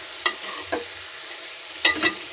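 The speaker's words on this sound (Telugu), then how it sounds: "ఉప్పు టమాటాలు కలుపుకున్నాము మంచిగా." Tomatoes and salt are stirred in a frying pan, with a few scraping strokes of a spoon over a low, soft sizzle in a quiet kitchen.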